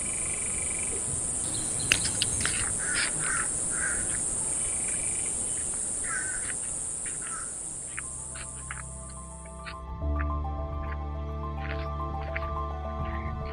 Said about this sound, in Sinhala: ඇහෙන්නේ හුළඟේ සද්දෙයි, කුරුල්ලොන්ගේ සද්දෙයි, රැහැයියන්ගේ සද්දෙයි විතරයි.